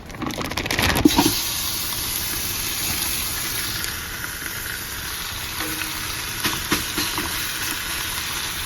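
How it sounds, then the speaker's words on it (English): Beef and pork sizzle and fry steadily in a pan for bacon-brisket chili, a loud, continuous close-up crackle with a few stirring scrapes near the start and no talking. "So now let's get cooking this beef and pork"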